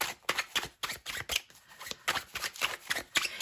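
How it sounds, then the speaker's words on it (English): Tarot cards are shuffled by hand close up, a rapid sequence of crisp riffling snaps and papery flutters in irregular bursts, with no voices. "I want to give those a little bit more of a shuffle here"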